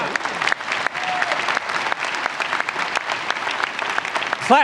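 Dense applause fills a graduate commencement ceremony audience at Northwest Missouri State University, steady and sustained throughout with no pauses, fairly close and even in loudness.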